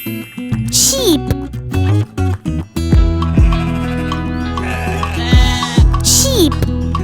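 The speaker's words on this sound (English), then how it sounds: "Sheep." A sheep bleats loudly several times in wavering, nasal calls over steady background music, close to the listener.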